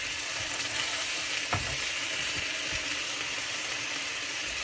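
Chicken pieces fry in a pan with a dense, steady sizzle and a couple of sharp scraping clicks as the meat is turned, close and even throughout with no talking.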